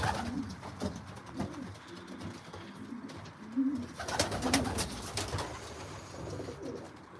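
Racing pigeons coo softly inside a loft, several low throaty calls repeating over a rustling background of wings and shuffling, fairly close.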